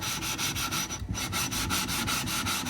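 A sharpening stone being lapped, rubbed back and forth in steady rapid strokes, giving a continuous close gritty scraping with a brief pause midway.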